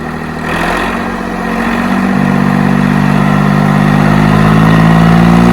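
A tractor engine runs loud and close, a steady idling drone whose pitch climbs slightly as it revs, with no distinct backfire pops standing out.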